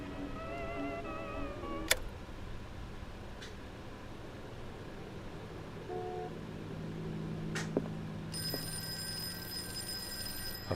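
An old-style telephone bell rings in the PS5 game Call of Cthulhu, a bright, steady, high ring that starts near the end over a low ambient hum and scattered faint clicks, with no one talking.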